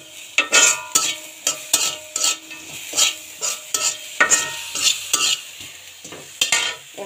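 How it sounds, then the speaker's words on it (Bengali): Pieces of a large fish with green chillies fry in a pan, loud sizzling broken by a steady rhythm of scraping stirring strokes, roughly two each second. "ভেজে নেব"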